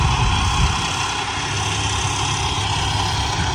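A John Deere 5405 CRDi tractor engine drones steadily and loudly throughout, powering a rotavator in a field, with a constant low rumble and no break or talk.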